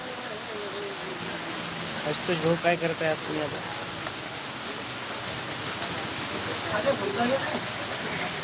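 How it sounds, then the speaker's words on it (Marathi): Steady rain falls in a continuous, even wash of noise while someone talks over it in short bursts. "आमच्या इकडे पाऊस चालू आहे"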